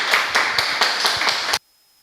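An audience at a forum on Cambodian education mission claps to welcome a speaker, a short burst of rhythmic clapping with distinct beats that stops abruptly.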